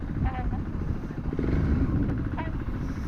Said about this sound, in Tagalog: Ang cute ng motor na to eh